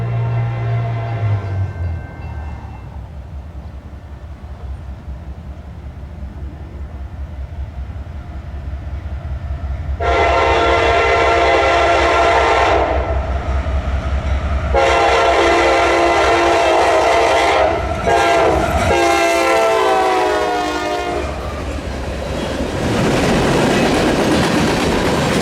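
A CSX freight train on the Garrett Subdivision rumbles past, its horn sounding in several long, loud blasts over the steady roll and clatter of wheels, building to a close, continuous roar.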